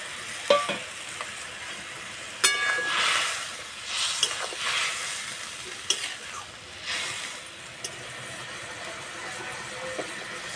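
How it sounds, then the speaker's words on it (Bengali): Fried eggplant pieces are stirred in a hot pan for a spicy mustard-oil eggplant curry. There is a steady sizzle with scraping stirs and a few sharp clicks of a utensil against the pan, and no talk. "ভেজে রাখা বেগুন দিয়ে দেবো"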